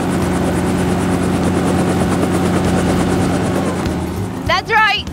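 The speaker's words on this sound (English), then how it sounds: "That's right, it's a helicopter." Helicopter rotor thudding in a steady loud chop for about four and a half seconds, then a brief child-like voice rises over the fading engine at the end.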